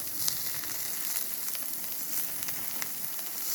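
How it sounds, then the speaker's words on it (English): Oil sizzling on a hot griddle, a steady close bright crackle and hiss with small pops scattered throughout, no voices. "I'll put a little bit of oil over here. Let it run."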